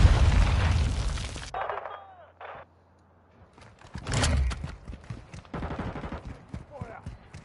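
Video game gunfire cracks out in several loud bursts and rapid volleys, with a quieter gap between them and talk heard during the action.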